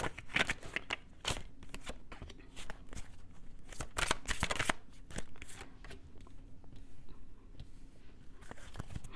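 Tarot cards being shuffled by hand, a series of crisp riffling and slapping bursts, close up and fairly quiet, with no one talking.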